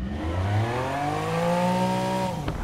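A Lamborghini Diablo engine in the racing game Need for Speed Heat revs up and holds a smooth, rising whine for a couple of seconds before cutting off abruptly, loud and alone.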